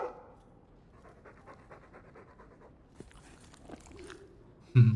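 A Mabari war dog in the Dragon Age video game pants softly and steadily for several seconds, with a louder bark-like burst right at the end.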